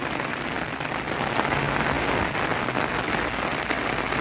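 Steady, dense rain pattering on a surface, continuous and fairly loud throughout with no voices.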